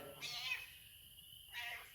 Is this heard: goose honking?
no